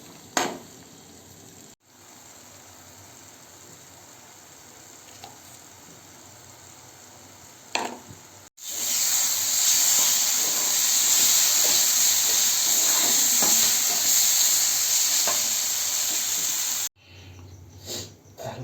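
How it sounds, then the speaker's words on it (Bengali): Spice masala paste stirred and fried in oil until the oil separates, for a parshe fish bhuna; quiet scraping and light sizzling at first, then a loud, steady hissing sizzle for several seconds before dropping back. "এটাকে যতক্ষণ না তেল বেরোচ্ছে ততক্ষণ একটু নাড়িয়ে নেব, পাকিয়ে নেবো আর কি"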